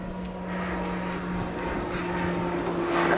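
An RAF Tucano turboprop trainer rolls and pulls a 4.5 G turn at the 2019 Southport airshow. Its engine drones steadily with a humming tone, distant but strong, swelling slightly louder toward the end.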